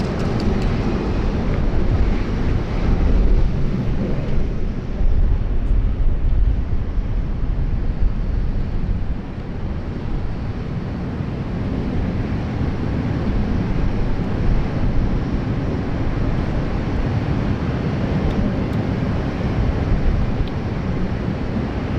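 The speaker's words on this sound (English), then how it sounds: "This is Vortex Air, Beach 1900 arriving in from Moorabbin, which is also down in Melbourne." A Vortex Air Beechcraft 1900 arriving at Sydney Airport from Moorabbin gives a steady, loud broadband roar that holds throughout with a windy rush, and no voices are heard.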